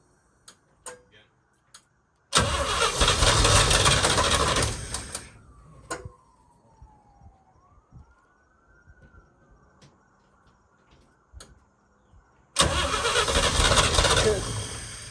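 A 1966 International Harvester 1100A truck engine cranks in two loud bursts a few seconds each, separated by a quieter gap with faint clicks and brief voices nearby.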